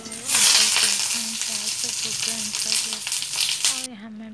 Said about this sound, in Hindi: और यहाँ मैं भिंडी फ्राई कर रही हूँ।